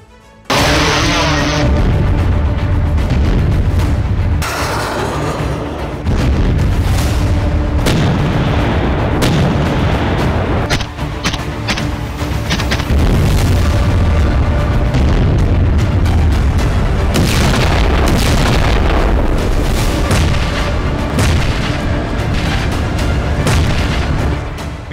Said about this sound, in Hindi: रूस की तरफ से इतना विध्वंसक हमला हुआ है जिसके चलते यूक्रेन के कोने कोने में बारूदी भूचाल आ गया है